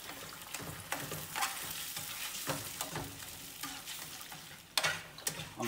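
Eggs seasoned with salt and pepper being scrambled in a frying pan, a soft background sizzle broken by repeated scraping and stirring clicks of a utensil against the pan, fairly quiet and close.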